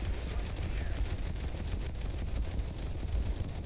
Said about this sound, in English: as you can already see, it's an impressive display of secondaries.